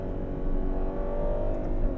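A Ferrari 12Cilindri V12 grand tourer of 819bhp holds a steady, smooth engine drone with a dense low hum, close and even, with no talking over it.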